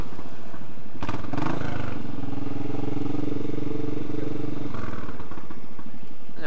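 A motorcycle engine rumbles close by on a road during a motorcycle tour, a loud steady drone with a rising then held pitch before it drops away, with brief clatter at the start.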